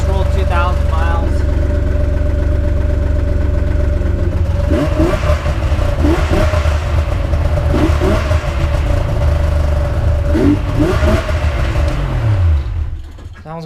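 A Yamaha snowmobile fitted with a Bender racing exhaust idles loud and close, then revs repeatedly in sharp bursts before settling and cutting off; voices can be heard in the background.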